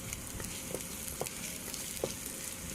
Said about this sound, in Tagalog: Then, ilagay natin ang garlic. So, hintayin lang natin na magiging brown siya ng konti.